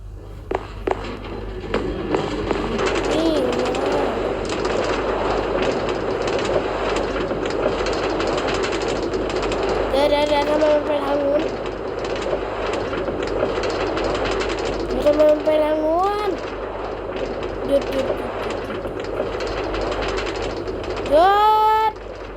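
Minecraft train rolling along rails, a steady rumbling ride with repeated rising whistle-like tones, heard close and continuous under speech.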